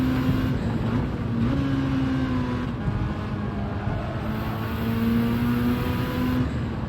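A car engine in Gran Turismo 7 drones steadily and loudly, its pitch rising and shifting through gears as the car accelerates, with no talking over it.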